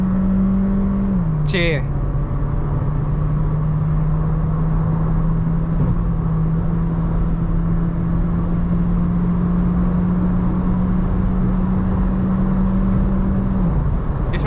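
A Volkswagen Virtus in sports mode holds a steady, loud engine drone that climbs briefly near the start and then stays level, with someone talking over it.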